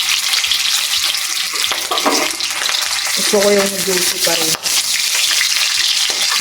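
Chicken pieces frying in hot oil give a dense, loud, continuous sizzle and crackle with occasional stirring clatter, while someone talks over it.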